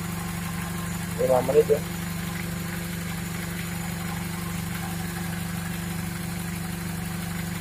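A Toyota Corolla engine idles steadily after an oil flush, a constant low hum with vibration running through the whole stretch, with a brief spoken remark near the start.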